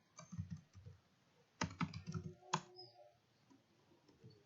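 Someone types a command into a computer terminal in quick, quiet bursts of clicking keys, close and faint, with short pauses between the runs of keystrokes.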